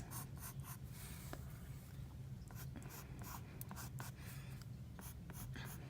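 Soft pencil strokes scratch on paper while a cartoon figure is sketched, a quiet run of short, repeated close-up marks with no voice.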